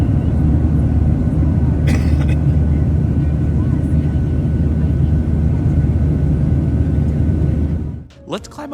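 Steady, loud broadband engine roar of an American Airlines Boeing 737 or Airbus A321 climbing after takeoff, heard from inside the cabin, continuous for most of the stretch before dropping off sharply near the end.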